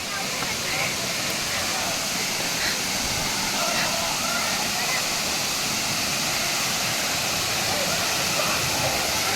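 Soormane Falls near Kalasa, swollen by monsoon rain: a dense, steady roar of falling water, even and unbroken throughout, heard from close by with faint voices beneath the rush.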